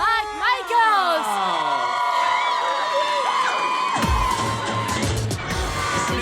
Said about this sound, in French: Applaudissez le seul et l'unique Morgan Mike Michaels!